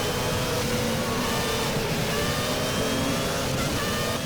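A 1996 Formula 1 V10 race car engine in Automobilista screams at steady high revs throughout, loud and continuous with no talking.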